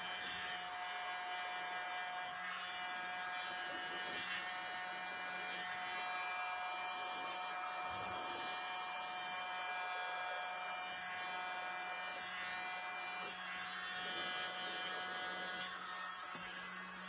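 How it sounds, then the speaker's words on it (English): Small blow dryer with its nozzle removed, blowing acrylic paint in a split cup pour: a constant, dense, airy whoosh with a faint high whine, steady and close for the whole stretch with no talk. "So I'm going to take my little blow dryer, and I took the end off of it."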